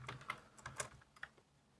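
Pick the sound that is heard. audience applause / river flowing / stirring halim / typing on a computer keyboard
typing on a computer keyboard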